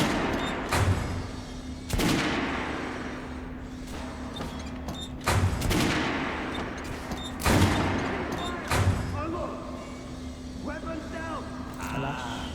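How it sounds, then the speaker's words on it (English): Shotgun and rifle fire in Metro Last Light Redux, with sharp, loud individual blasts spaced a second or two apart over a constant mechanical hum and a person talking throughout. "Okay, first shotgun. Shotguns are always stopping power at close range."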